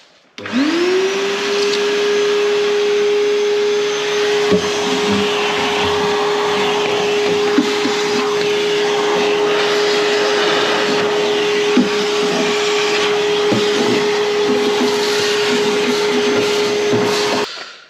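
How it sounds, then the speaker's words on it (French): A vacuum cleaner starts up with a rising whine and then runs steadily and loudly at close range, with occasional clunks as it sucks things up while cleaning an old Braud machine. "l'aspirateur il aspirait pas tant que ça"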